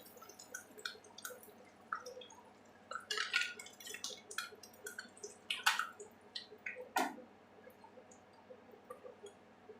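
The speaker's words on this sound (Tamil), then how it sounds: "நம்ம எண்ணெயை வடிகட்டிட்டு முட்டையை எடுத்துடலாம்." Hot oil dripping and trickling off fried eggs as they are lifted from a pan, with soft irregular drips, faint sizzle and light clinks of a utensil, close and fairly quiet.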